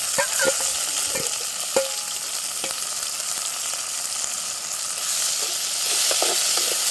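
Onions, coconut, fennel and curry leaves frying in a pan at a village kitchen: a constant bright sizzle with a few distinct stirring taps and scrapes near the start, close-up and unbroken by voices.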